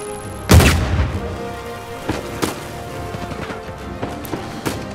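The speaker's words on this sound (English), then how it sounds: "Damn grenades!" A loud, close blast from grenades in the video game Uncharted 4 goes off near the start, then several smaller explosive thumps and crackles follow through the rest of the scene.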